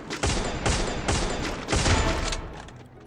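Bursts of loud automatic gunfire in Free Fire come in quick groups of four or five volleys over three seconds, some close and sharp, then fade toward the end.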